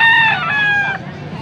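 A young gamecock stag crows once, loud and close, its strained harmonic call rising and then breaking off, with dull background murmur and no talk.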